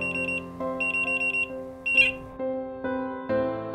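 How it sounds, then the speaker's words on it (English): A loud electronic alarm from a Levana OMA baby movement monitor sounds in repeated quick beep bursts, with a short buzzy chirp midway, followed by sustained tones stepping up in pitch. "Oma will beep loudly to alert you that your attention is required immediately."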